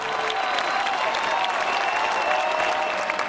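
Dense crowd applause with scattered cheers fills a political rally for a country doctor from Texas, Ron Paul, steady and loud throughout the short stretch with no voices standing out.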